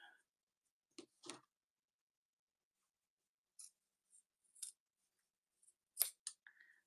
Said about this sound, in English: I need to trim this a little bit.